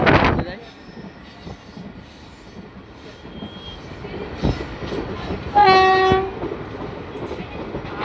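A moving passenger train is heard from the coach just behind the engine, with a steady rumble of wheels on the rails and a loud, sustained horn blast partway through.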